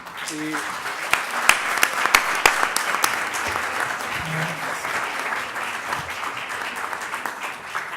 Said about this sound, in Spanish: Yo sugiero que les demos un gran aplauso